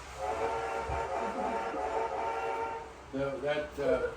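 A recorded train whistle sound effect plays in a series of harmonic, tonal blasts, with a long steady note followed by shorter, choppier toots near the end.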